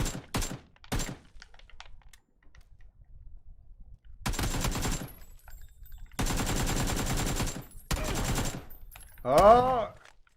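Gunfire in PUBG, including shotgun shooting, comes in several loud separate bursts of rapid shots broken by gaps of near silence, with a brief voice exclamation near the end.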